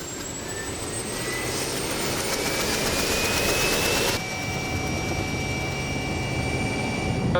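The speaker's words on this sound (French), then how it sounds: "Un hélicoptère équipé d'une caméra." Turbine-driven aircraft overhead above an autoroute, a loud, steady whining engine roar with shifting high tones, close and continuous, without talk.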